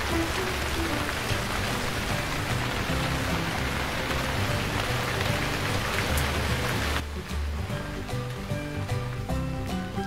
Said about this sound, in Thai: เสียงฝนจะดังไปหรือเปล่าเอ่ย